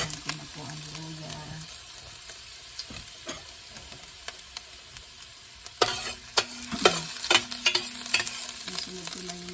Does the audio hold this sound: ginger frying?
yes